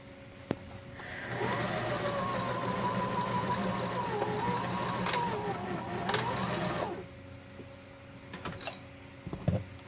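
A sewing machine runs a continuous, close, steady burst of stitching for about five seconds while sewing a quarter-inch seam on a fabric facemask, followed by quiet handling sounds.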